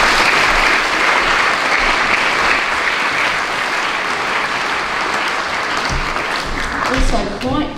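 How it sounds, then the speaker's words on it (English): Audience applause fills a school prize giving at a junior school, a steady dense wash of clapping from a large crowd that holds loud for several seconds, with a few voices emerging as it thins near the end. "Let's give them all a big clap, shall we?"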